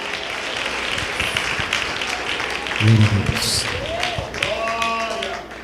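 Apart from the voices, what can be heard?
congregation clapping hands in church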